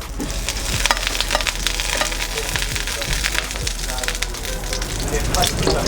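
Blanched shallots dropped into a thin film of hot oil in a pan while a sauce is being built, giving a steady crackling sizzle with sharp pops and spits throughout, mixed with some background noise.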